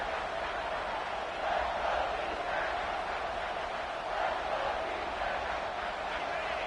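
Home crowd roaring in a college football video game as the defense tries to get off the field on third down; a steady, dense wall of stadium noise at even loudness throughout, with no talk.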